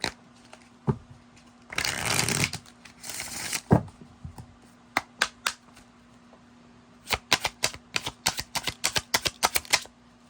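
Tarot cards are shuffled in two dense riffled bursts, then handled with a series of sharp, separate snaps and taps as cards are cut and laid out. The sounds are close and there is no talk.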